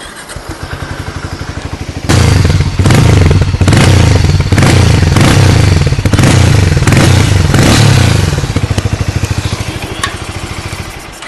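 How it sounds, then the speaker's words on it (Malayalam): A Harley-Davidson X440 motorcycle engine cranks and fires up, settling into a loud, throbbing idle with a deep, pulsing exhaust note, then tapering slightly near the end. "ഞാൻ ഈ വണ്ടി ജസ്റ്റ് ഒന്ന് സ്റ്റാർട്ട് ചെയ്തിട്ട് ഇതിൻ്റെ എക്സോസ്റ്റ് നോട്ട് കാര്യങ്ങളൊക്കെ കേൾപ്പിച്ചു തരാം."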